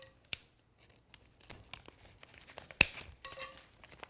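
Sharp scissors snip through paper to cut a luminaria, giving sparse crisp clicks and short cutting strokes close up, with quiet rustling of the paper between cuts and no talking.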